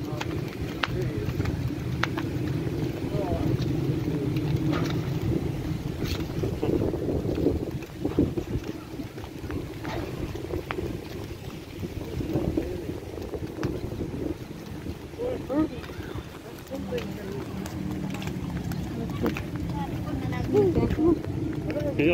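Strong wind roars and buffets the microphone throughout, a constant low rumble with gusts, while a person talks over it.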